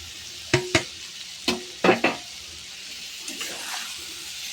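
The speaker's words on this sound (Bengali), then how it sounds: "এবার আমি সোয়াবিনগুলোকে কিন্তু দিয়ে দেব, দিয়ে আবারও একটু নাড়াচাড়া করে কষিয়ে নেব" Soybeans and potatoes fried in spices, stirred with a utensil against the pan: several sharp, close knocks and scrapes in an uneven cluster over a faint sizzle, then softer scraping toward the end.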